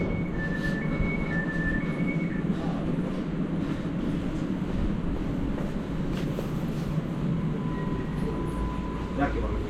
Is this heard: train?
yes